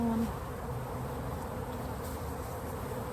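A dense, steady drone of many honeybees buzzing from an early-season swarm, close and continuous for a few seconds with no talk.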